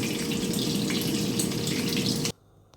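Food fries in hot oil with a close, steady crackling sizzle that runs unbroken for a couple of seconds and then cuts off abruptly.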